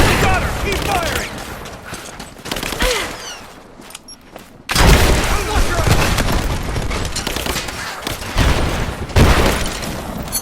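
Bursts of gunfire and heavy booms from a firefight in the video game Rise of the Tomb Raider, loud and dense, with a brief lull near the middle before the shooting returns full force; voices call out at points.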